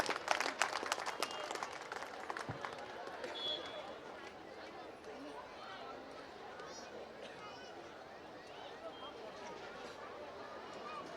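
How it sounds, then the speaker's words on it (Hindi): An audience at an annual gathering in Bhilai, Chhattisgarh applauds with a dense, steady wash of clapping, strongest at the start and then settling into continuous, moderately loud applause mixed with crowd murmur. "जोरदार तालियों से स्वागत किया जाए।"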